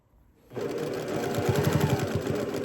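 A sewing machine stitches along the folded bottom edge of a fabric bag, starting after a brief quiet moment and then running with a close, steady rapid whirring and ticking of the needle.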